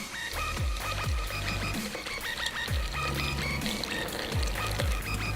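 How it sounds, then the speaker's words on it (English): Water pours steadily into a water bottle being filled, a continuous close splashing stream with rising gurgle over a few seconds, no voices. "open up your water bottle, and you're gonna fill it up"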